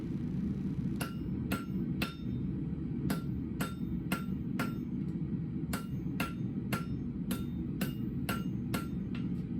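Hammer forging hot steel into the curved handle of a bolo knife, a steady series of sharp ringing blows about every half second, close and clear over a low workshop rumble.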